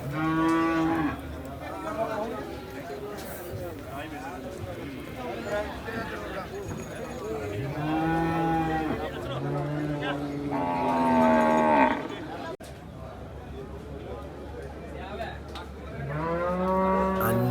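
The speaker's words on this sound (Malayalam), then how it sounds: "നല്ല ക്വാളിറ്റിയുള്ള ഒരുപാട് കാലികളുണ്ട്." Cattle and buffalo at the Manjeri livestock market low repeatedly, several loud drawn-out moos close by, one after another, over a busy background where people talk and hooves shuffle.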